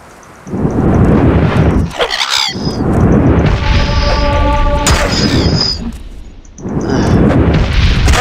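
Cliff racer in the game Morrowind screeching amid loud rumbling combat noise, with sharp shrill cries rising over a heavy, booming background.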